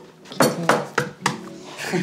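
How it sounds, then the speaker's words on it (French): Eggs are tapped against a saucepan in the kitchen, giving four sharp clinking knocks in quick succession with a brief rustle at the end. "dans ta casserole, tu vas venir en premier casser les œufs"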